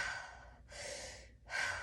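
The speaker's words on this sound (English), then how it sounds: "So this is me breathing with my chest." Heavy chest breathing during a core-strength demonstration: two loud, breathy inhale-exhale rushes with a short pause between, close to the microphone and without talk.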